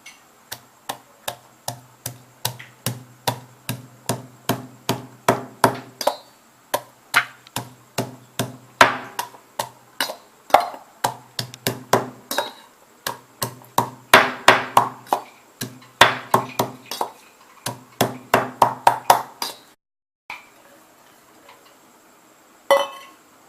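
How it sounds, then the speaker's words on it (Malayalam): Black pepper and onion are pounded for a jackfruit pepper fry, giving a long run of sharp rhythmic thuds and clinks. The strikes come in quick bursts with short pauses, loud and close. "കുരുമുളകും ഉള്ളിയും കൂടി ചതച്ച് വെച്ചിരിക്കുന്നു"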